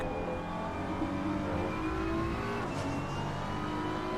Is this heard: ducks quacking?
no